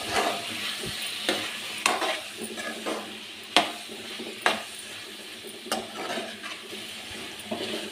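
A spoon stirs a cucumber and tomato curry with coriander powder in a pan, making repeated sharp scrapes and taps against the metal over a faint sizzle, close and unhurried, with no talk.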